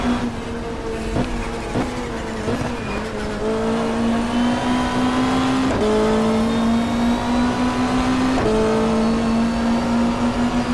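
A 1995 Australian Super Touring race car at Symmons Plains in the GTR2 racing game revs hard and close, climbing through the gears with a sharp drop in pitch at each quick shift, with no talk.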